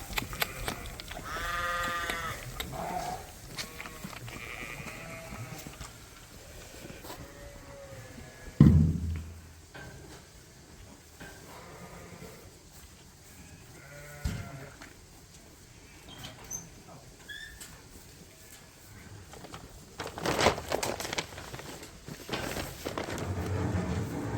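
Sheep and lambs on a farm bleat repeatedly, some calls near and some farther off, with a bump and rustling noises between them and a loud burst of commotion later.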